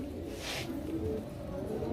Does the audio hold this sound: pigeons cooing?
yes